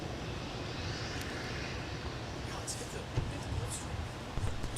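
An airliner rolls for takeoff on runway 17 at snowy winter MSP airport, a steady distant engine roar that holds throughout, with radio chatter and voices talking over it.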